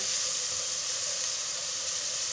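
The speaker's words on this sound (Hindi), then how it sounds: "फ्राई करने के बाद आपने इसमें लहसुन अदरक डाल लेना है, थोड़ा सा इसको फ्राई करना है" Garlic and ginger fry in a hot pan, a steady, even sizzle with bright hiss that runs continuously at close range, with no talking.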